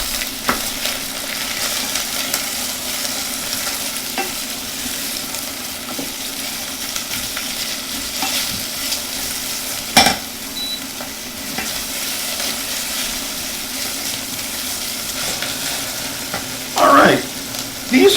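Onions sauté in a pan, soft and turning translucent, a steady close sizzle running throughout with occasional stirring scrapes and brief clinks.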